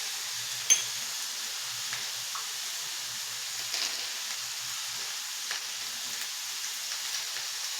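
Green chillies, garlic and radish leaves roasting in a pan give a soft, steady sizzle and hiss, faint and even, with a small clink of a utensil near the start.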